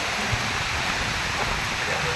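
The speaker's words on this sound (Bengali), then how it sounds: "বারান্দাতে পুরো জল জমে গেছে এত বৃষ্টি" Heavy rain pours down steadily, enough to flood a veranda with standing water, making a dense, unbroken close-range hiss with no pauses.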